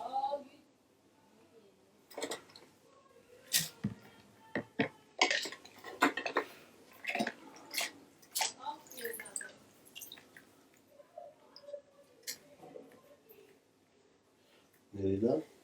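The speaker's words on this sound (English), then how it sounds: "I'm just going to rinse everything off. No soap, no nothing." Plastic PS4 controller parts being rinsed under running water without soap, giving intermittent splashes, drips and light clatters of pieces handled in a sink, close and fairly quiet, with brief speech in places.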